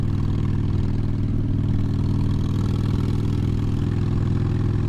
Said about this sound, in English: I'm out here rolling on my very, very dirty 2009 Harley Fat Bob FXDF